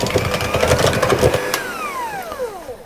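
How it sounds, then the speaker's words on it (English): Vanilla extract is whisked into cookie mixture with a close, busy whirring and rattling that runs for about a second and a half. It then winds down in a falling whine and fades out. "I'm going to add the vanilla extract as well and give that a quick whisk round"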